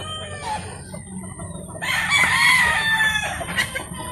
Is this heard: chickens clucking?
yes